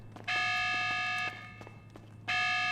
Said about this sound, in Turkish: Alarm da çalıyor.